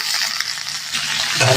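Okra and potato fry in oil in a wok with a dense, close, even sizzle over a brief moment.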